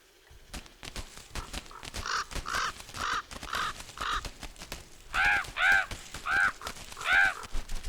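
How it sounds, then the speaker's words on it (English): Several ravens croak and caw nearby while feeding, in rhythmic, harsh bursts, some calls overlapping, growing louder toward the end. "Sometimes ravens' croaking resembles people's arguments on some interesting topic."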